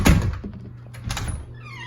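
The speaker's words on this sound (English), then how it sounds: "if you have a door that's rubbing a bit or just sticking a little bit, kind of like this one's doing, you can hear it rubbing" A sticking wooden door is pushed so it rubs against its frame: a heavy thunk at the start, then a dull scraping drag and a second softer bump, close and otherwise quiet.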